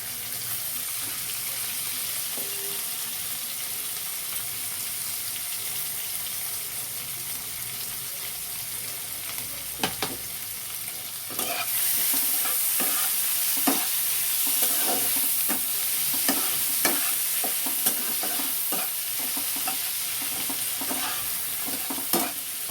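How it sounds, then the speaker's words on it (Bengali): Chopped onions sizzle steadily in a pan for a chicken stew, a constant frying hiss with scattered clicks and scrapes of stirring that grow a little louder midway, no talking. "পেঁয়াজটা একটু ভাজা ভাজা হলে, পেঁয়াজটা কালারটা একটু চেঞ্জ হয়েছে দেখো"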